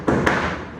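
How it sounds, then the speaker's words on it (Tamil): Firecrackers burst outside in two quick, sharp bangs close together, each leaving a short ringing tail. "கைஸ் கொஞ்சம் பொறுத்துக்கோங்க வெடி அடிக்கிறாங்க"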